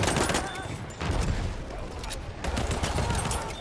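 Pistol gunfire in Battlefield 1, a dense run of sharp shots layered over heavy battlefield noise with bursts that swell and fade, close and loud throughout with no clear gaps between reports.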